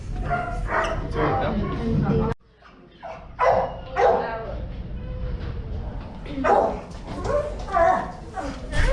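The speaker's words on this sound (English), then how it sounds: "I've got a border collie." A border collie barks and whimpers at close range in short irregular bursts, with people talking over and between the dog's sounds throughout.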